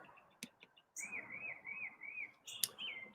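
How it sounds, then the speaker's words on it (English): A bird sings a loud, warbling phrase of rising and falling notes, repeated twice, with a few sharp chirps between in a quiet setting. "that is just an incredibly loud bird"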